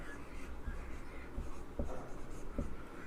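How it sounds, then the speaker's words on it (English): Pen or chalk writing on a board during a chemistry lesson, faint scratchy strokes with a few sharper taps and scrapes in an irregular rhythm, close and quiet without talk. "Now I will write"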